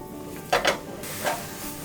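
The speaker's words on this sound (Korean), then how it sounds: "자, 이대로 바로 양송이 볶을 겁니다." Button mushrooms tossed in melted butter in a pan, brief scraping stir strokes over a soft sizzle, two quick bursts then a third, with a low steady frying hiss between them.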